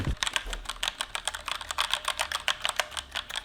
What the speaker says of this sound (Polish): W tej klawiaturze akurat mam liniowe czerwone i one wyglądają w ten sposób, w zasadzie usłyszcie jak one mniej więcej klikają.